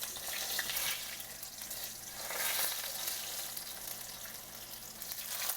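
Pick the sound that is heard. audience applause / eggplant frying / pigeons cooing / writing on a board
eggplant frying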